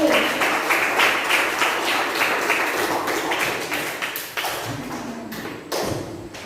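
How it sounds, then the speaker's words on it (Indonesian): A class applauding themselves during a lesson, with loose, uneven clapping that is fairly close and steady, thinning into scattered claps and taps toward the end. "Oke, tepuk tangan dulu untuk diri sendiri"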